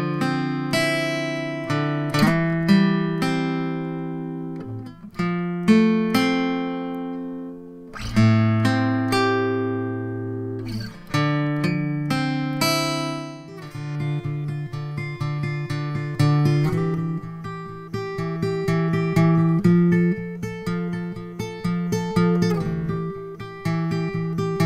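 Acoustic guitar played with the microphone aimed at the sound hole, strummed chords and picked notes ringing with full bass and crisp highs, steady and close throughout with no voices.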